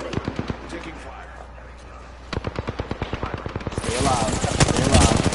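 Automatic gunfire in the video game Apex Legends: rapid bursts of sharp shots, sparse at first, then denser and louder toward the end, with a voice faintly present underneath.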